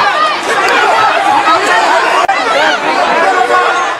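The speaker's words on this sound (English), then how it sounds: "An angry crowd swarms around a man wearing an Australian flag and shouting abuse" Dense, loud babble of many voices from an angry crowd of protesters swarming around a man in an Australian flag and shouting abuse, a continuous close roar of overlapping shouts and chatter throughout.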